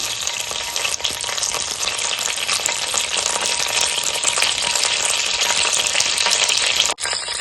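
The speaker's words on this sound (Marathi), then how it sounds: "आता त्यामध्ये ना तेल तापलंय, त्यामध्ये मी कढीपत्ता टाकते फोडणीला कढीपत्ता मिरची" Curry leaves and green chillies sizzle in hot oil for a Marathi raw banana vegetable, a loud continuous crackling fry that holds steady, with a brief dip near the end.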